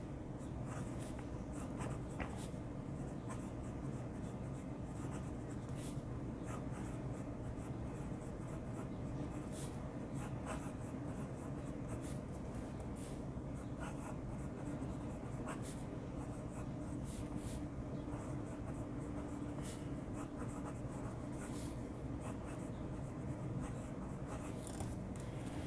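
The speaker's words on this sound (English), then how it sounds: "let's write out a sentence." A Moonman M600S fountain pen writes out a sentence on paper, its nib giving a steady, soft, close-up scratching that runs continuously with short lifts between strokes and no talking.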